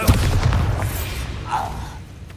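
A Confringo spell explosion in the video game Hogwarts Legacy, a single heavy boom at the start that fades into rumble, followed by a brief vocal cry.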